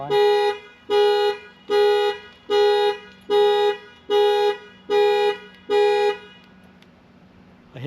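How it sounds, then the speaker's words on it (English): A truck alarm, set off by the panic button, blares in eight loud, evenly spaced bursts, each a harsh harmonic honk, then stops, leaving faint background noise. "Why's my truck alarm going off?"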